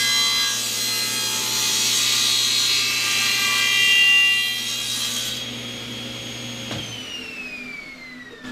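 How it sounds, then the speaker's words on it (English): A power saw cuts a 3/8 inch tenon in a 3/4 inch thick wooden board, giving a loud, steady whining cut for about five seconds. The blade then coasts down with a falling whine, close by and with no talk. "So now I'm going to cut a 3/8 tenon in a 3/4 inch thick board. So I just turn on the saw."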